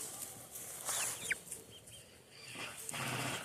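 Pet chickens, including a hen named Cinnamon, clucking and calling close by in a backyard, short bright calls scattered over a soft outdoor background.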